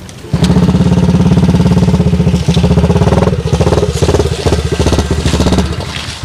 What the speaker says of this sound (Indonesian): Tong dikerung-kerung teh motor teh bulan puasa ieu teh.